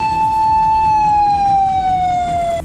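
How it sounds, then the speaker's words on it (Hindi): A loud, steady ambulance siren wail holds one sustained tone that slowly drops in pitch, with faint traffic rumble underneath. "इलाके में जगह जगह एम्बुलेंस के सायरन की आवाज सुनाई देने लगी"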